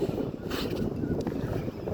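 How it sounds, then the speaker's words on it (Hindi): Strong wind blowing outdoors, a steady broadband rush buffeting the microphone with gusty swells, loud and continuous with no talk. "हवा चल रही है खूब"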